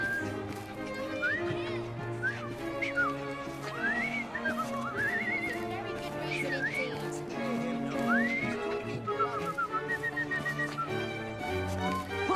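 A character in Assassin's Creed Syndicate whistles a wandering tune in a string of rising and falling notes. The whistle sits over a steady musical score with horse-like sounds for about twelve seconds.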